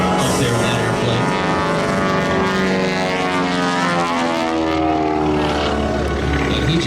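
A propeller airplane makes a pass at an airshow, flown by the pilot Younkin. Its engine drone sweeps in pitch with a strong Doppler shift as it goes by, loud and continuous, with a commentator's voice faint underneath.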